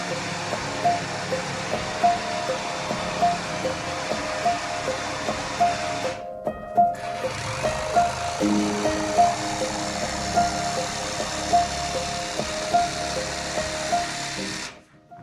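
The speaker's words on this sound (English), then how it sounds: "we're just using the cordless jigsaw here, and I'm putting a blade tight up against that board" Cordless jigsaw cutting a board with its blade held tight against the wood, a steady buzzing whine with rhythmic pulses throughout and one brief stop partway through.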